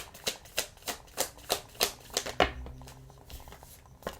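Tarot cards are shuffled in quick, evenly spaced riffling slaps, about ten sharp flicks in a row, then a card is drawn and set down with a softer rustle, close and clear with no voices.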